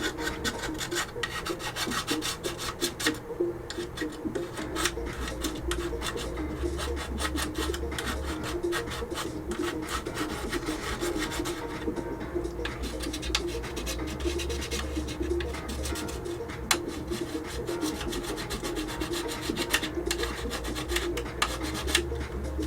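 A file rasps against the plastic of a 1/20 AMT Toyota pickup model kit, a continuous rapid scratching and rubbing, close and steady throughout, with no talk.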